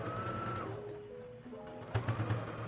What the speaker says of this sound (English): I'm going to make it smaller just by sewing across this seam here on both sides